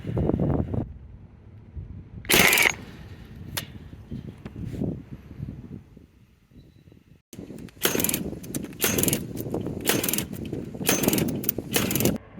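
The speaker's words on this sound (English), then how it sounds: "We're now ready to drive some staples." A Milwaukee cordless fence stapler drives staples into high tensile wire, giving loud, sharp mechanical bangs in clusters with a softer whirring and clattering between them.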